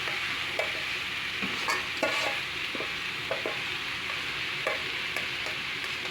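Rice fried with turmeric sizzles steadily in a pan while a utensil stirs it, making repeated scraping and tapping strokes over the constant frying hiss.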